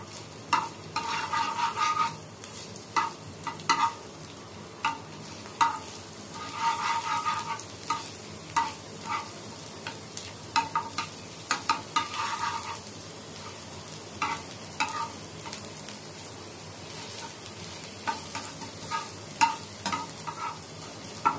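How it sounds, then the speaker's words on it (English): Steady sizzling of chopped garlic in a hot pan with frequent sharp clicks and scrapes of stirring, fairly quiet and continuous throughout. "So the garlic has started to sizzle."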